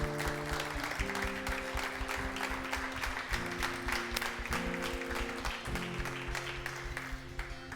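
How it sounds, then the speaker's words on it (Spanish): A church congregation applauding during a service, sustained clapping that carries on throughout under steady chordal music playing alongside. "le des un buen aplauso a Él"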